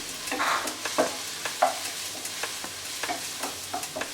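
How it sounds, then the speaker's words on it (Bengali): Garlic paste frying in a pan while it is stirred, with a steady soft sizzle under repeated scraping strokes of a spoon against the pan, close and fairly quiet, with no talking. "নাড়াচাড়া করে দিচ্ছি না নাড়লে পুড়ে যেতে পারে"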